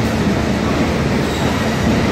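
A train runs on the Stone Mountain Park railroad, a loud, steady rumble of wheels on track with a faint squeal running through it, close by and continuous, without speech.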